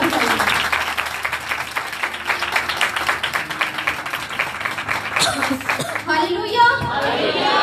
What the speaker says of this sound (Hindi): आइए एक बार फिर खुदावंद के हजूर में जोरदार तालियां बजाइए।